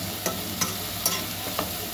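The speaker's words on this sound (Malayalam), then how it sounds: "ചൂടായിട്ട് ഉള്ളി ഇട്ട് നല്ലവണ്ണം മാറ്റിയെടുക്കാം." Onions sautéing in hot oil in a pan for a chicken curry, a steady close sizzle with a few soft spoon-stirring knocks at regular intervals.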